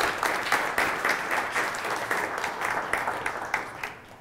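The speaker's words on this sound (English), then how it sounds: "let's give her a round of applause for it" An audience at a lecture applauds, with steady, dense hand clapping from a medium-sized crowd lasting several seconds.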